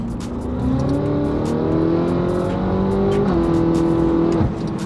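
A BMW F10 M5 engine revs hard and climbs in pitch as it accelerates after a downshift, with a gear change partway through and a steady loud roar throughout.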